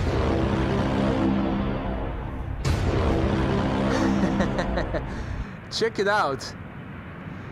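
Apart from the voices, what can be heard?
airplane at Amsterdam Schiphol Airport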